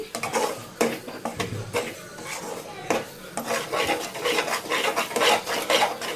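A spoon stirs chili powder into a ginger curry (allam pulusu) in a pan, giving close, repeated scraping and clinking strokes in an uneven rhythm that keeps going without pause.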